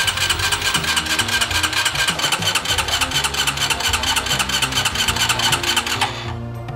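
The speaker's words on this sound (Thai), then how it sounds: "หมุนเครื่องยนต์โดยการถีบคันสตาร์ทหรือกดสวิตช์สตาร์ท" A Honda Wave 125i motorcycle engine, started by kick or starter switch, runs with a fast, steady putter for several seconds, then drops off abruptly near the end.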